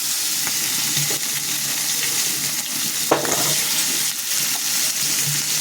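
Vegetables with green chilli and ginger fry in a pan with a loud, continuous sizzle, broken by a few stirring scrapes and one sharper clatter partway through.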